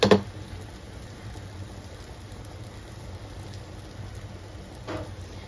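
A chicken cheese paratha fries in butter on a pan over a low to medium flame. It gives a soft, steady crackling sizzle, with a short clatter at the start and another near the end.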